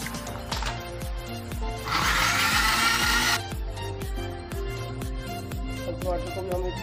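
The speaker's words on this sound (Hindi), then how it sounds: "इसी टमाटर और हरी मिर्च को भी हम इसी में ग्राइंड कर लेते हैं।" A mixer grinder whirs as it blends tomatoes and green chillies, a loud steady burst of grinding in the middle, with clicks and a rhythmic clatter running throughout; no one speaks.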